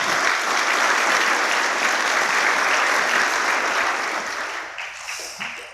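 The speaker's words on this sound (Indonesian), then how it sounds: "tepuk tangan untuk beliau semua" Sustained applause from an audience at a national student gala in Indonesia, a dense wash of clapping that holds steady and then thins out toward the end.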